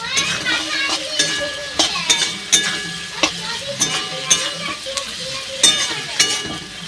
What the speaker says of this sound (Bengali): অল্প করে জিরে দেব, দিয়ে ভালো করে মশলাটা ভেজে নেব